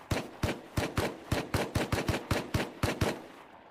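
Rapid gunfire in the survival video game Rust, about a dozen sharp shots in a steady, evenly spaced burst, fairly faint and with no talk over it.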